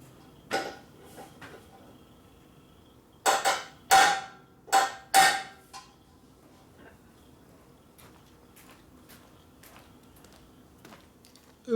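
Several sharp metallic hammer blows on a motorcycle engine part held in a vise, part of a 1972 Harley XL Ironhead Sportster motor rebuild, landing in a quick cluster of four or five strikes after a few lighter taps, close and loud.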